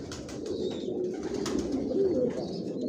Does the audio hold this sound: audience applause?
no